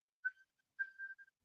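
A person whistles with their mouth, imitating a whistling noise: a few short, thin tones in two quick bursts, quiet and close, with no speech.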